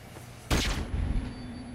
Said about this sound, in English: Someone threw a flashbang.